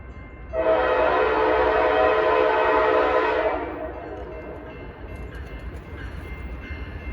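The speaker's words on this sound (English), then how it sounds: "Oh, it's a track train." A southbound maintenance track train hauling work equipment passes on the rail line and sounds a loud steady horn blast for about three seconds, followed by rumbling rail noise as it goes by.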